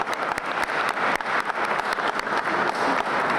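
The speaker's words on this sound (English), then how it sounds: "Let's give her a round of applause." Steady audience applause at a summer program closing ceremony: a dense, even wash of many hands clapping, moderately loud throughout with no talking.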